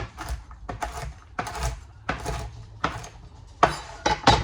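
A knife chops carrots roughly for carrot cake, with about a dozen sharp, close knocks on a board coming in uneven bursts and short pauses.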